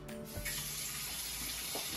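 Tap water running steadily into a sink, a continuous close splashing rush with no talking.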